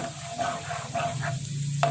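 A spiced tilapia stew sizzles in a pan while it is stirred, giving soft scraping strokes over a steady low frying hiss, close and moderately loud, with no voices.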